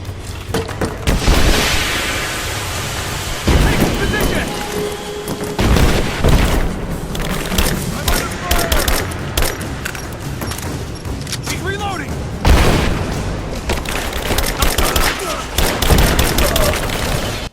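Dense, loud bursts of explosions and rapid gunfire in Rise of the Tomb Raider on PS5, with heavy booms recurring throughout and brief pauses between volleys.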